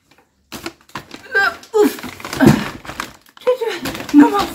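A grocery shopping bag from a supermarket haul being unpacked, with crinkling, rustling plastic handled up close in irregular bursts, mixed with talking.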